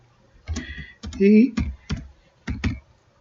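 Computer keyboard keys tapped in short bursts to enter a file name in a 3D relief machining program, a few quick clusters of clicks, close by, with a voice talking over part of it.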